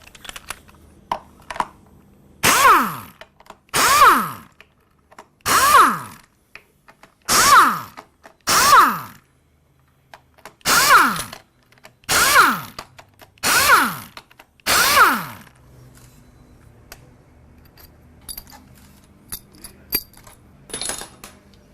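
Mechanic removes the mechatronic unit from a car's automatic transmission: a run of about ten sharp, evenly spaced metallic clicks and ratchet bursts, close and loud, then quieter rattling, with no talk.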